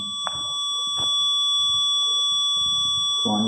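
An electronic device emits a continuous high-pitched tone in a castle at night, with faint thumps and shuffling noises scattered underneath, steady and fairly quiet throughout.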